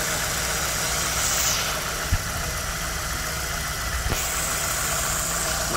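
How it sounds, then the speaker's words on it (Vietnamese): A 1.5-litre manual petrol car engine idles steadily at a close distance, a smooth continuous hum with a couple of faint clicks and no voices. "Máy nổ rất là đều, đều tiếng,"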